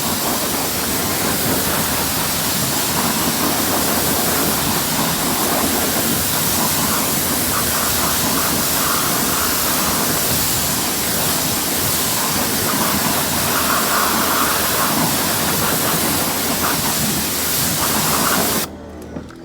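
Steady, full hiss of spray water rinsing iron remover off a car's paintwork, loud and unbroken for nearly twenty seconds before cutting off abruptly.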